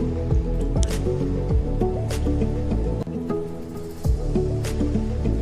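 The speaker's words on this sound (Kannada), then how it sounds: "ಇನ್ನೊಂದು ಸ್ವಲ್ಪ ನೀರು ಹಾಕ್ತಾ ಇದ್ದೇನೆ." Wet, squishy kneading of rice flour dough for modak as more water is worked in by hand, repeated sticky squelches and drips under steady background music.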